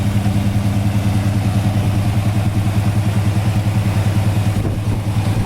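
A 1964 Dodge Polara with a 1969 440 block, dual four-barrel carburetors, cross ram intake and dual exhaust idles steadily close by, a loud, even, lopey rumble with rhythmic pulses and no talking.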